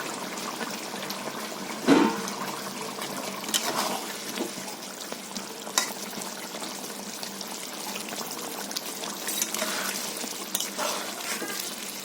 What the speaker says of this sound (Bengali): ঝোলে মাছটা দিয়ে দিচ্ছি